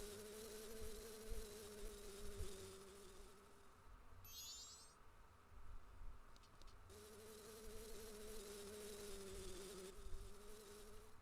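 Bees buzzing in the video game The Legend of Zelda: Majora's Mask, a steady droning hum that runs through the whole stretch, dipping briefly midway before swelling back to full level.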